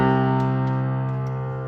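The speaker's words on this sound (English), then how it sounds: "The beginning and ending of the prelude contains a sustained left-hand C" A sustained low C is held in the left hand on a piano at the start of a prelude, ringing steadily with rich overtones and slowly fading, with no other sound.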